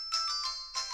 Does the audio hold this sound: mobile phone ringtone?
yes